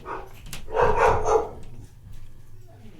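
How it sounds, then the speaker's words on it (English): A dog barks agitatedly in a short burst, fairly close, mixed with people talking in a room. "Why is the dog mad?"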